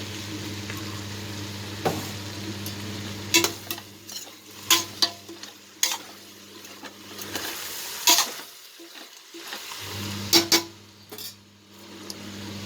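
Garlic paste stirred in a hot pan while cooking a vegetable biryani with cumin samba rice, a steady faint sizzle broken by scattered scraping and clinking of a spoon against the pan.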